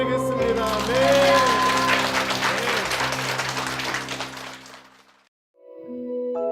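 Korean church congregation applauding during a service, a broad wash of clapping over sustained organ or keyboard chords that fades into a brief silence before the music returns alone.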